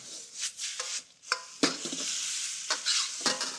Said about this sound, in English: I'm going to add soy sauce. And I like to put it right on the hot metal of the pan.